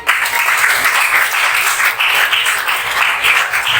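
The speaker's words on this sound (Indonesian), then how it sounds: "berikan tepuk tangan dulu" A classroom audience in a teaching session gives a loud, dense round of applause, the clapping sustained and close, with no one talking over it.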